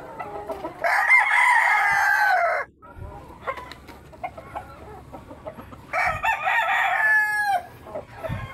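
Two loud, close rooster crows, each a long rising-and-falling call, set in a farmyard with a larger fowl or gamecock nearby, with softer hen clucks and scratchy rustling in the gaps between them.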